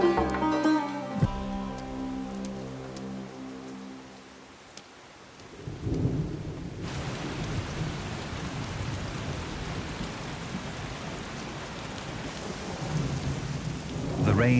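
Thunderstorm with heavy rain in a desert valley: a deep rumble of thunder swells and fades, then a dense, steady wash of pouring rain takes over, loud and close with no voices.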